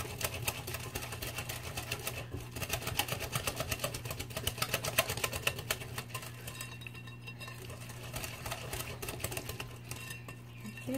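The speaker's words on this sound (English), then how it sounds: "I just rather use the whisk. And just whisk it all together until it's combined." Pumpkin pie filling is whisked by hand in a bowl, a rapid, even clicking and tapping that carries on without a break at a moderate, close level.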